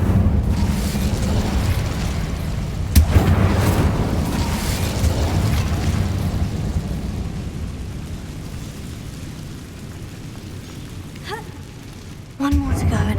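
An Incendio fire spell in Hogwarts Legacy bursts with a booming, rumbling blast followed by a long crackling roar that slowly fades, with another sharp hit near the end.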